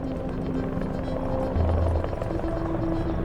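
A police helicopter drones continuously overhead, a loud, steady rotor throb and engine hum filling the scene without letup.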